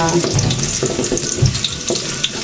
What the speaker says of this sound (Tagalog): Medyo pa browning lang natin yung ating bawang.